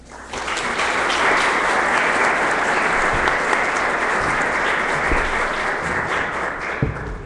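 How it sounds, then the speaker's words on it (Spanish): An audience at an academic lecture breaks into applause to welcome a speaker, a dense, steady clapping that swells in quickly and holds for several seconds, with a few louder claps near the end. "Los recibimos con un aplauso."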